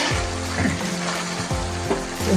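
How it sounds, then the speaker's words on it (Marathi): Tomato chutney gets stirred in a hot pan, with spoon scrapes and a steady sizzle. A few strokes come at regular intervals and sound close and fairly loud. "आता आपण हलवून घेऊ।"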